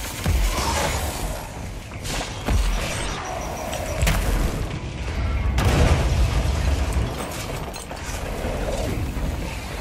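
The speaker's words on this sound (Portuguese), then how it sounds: "Ali explode, né?" Explosions in the video game Control, several heavy booms and crashing bursts rolling through a dense, rumbling combat mix, loud and close, with brief debris-like clatter between blasts.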